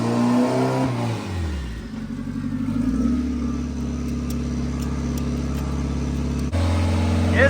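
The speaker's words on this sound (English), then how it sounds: "having to rev it and hold it, play with the throttle" A car engine revs after a glued head gasket repair, rising sharply then settling into a steady, held throttle drone with a brief blip near the end, loud and close with no talking.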